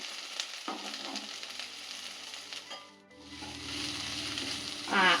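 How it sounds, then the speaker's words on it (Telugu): Okra, or lady's finger, fries dry in a pan without onion, making a continuous close sizzle with scraping stir sounds and a brief lull partway through. "బెండకాయ ఫ్రై రెడీ అయింది"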